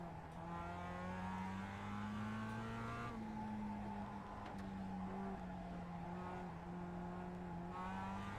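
A Mazda MX-5 race car in iRacing hums along at a steady engine drone, its pitch stepping up and down through gear changes, with faint tire noise and no pauses.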